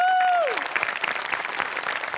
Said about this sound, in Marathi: तुझ्या अटेम्प्टसाठी टाळ्या व्हायला पाहिजेत